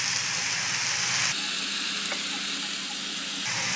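Mushrooms and pork stir-frying in a wok over high heat, a loud continuous hissing sizzle that dips briefly in the middle, with no voices.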